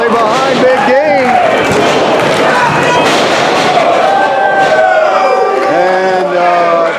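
A wrestling crowd at an RSW championship match cheering loudly and continuously, a dense roar of voices with whistles and shouts filling the venue while a commentator talks over it.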